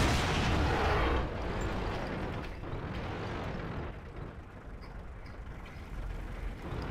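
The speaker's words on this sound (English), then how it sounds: "You're getting shot by artillery" Artillery fire in a World of Tanks clan wars battle: a dense, rumbling barrage of booms that stays loud and continuous throughout, with a heavy low-end roar and no clear gaps between blasts.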